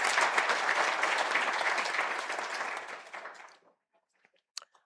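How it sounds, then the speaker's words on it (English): Audience applause at a University of South Africa event, dense clapping for about three and a half seconds before tapering off into silence with a few stray claps. "I think it requires a round of applause."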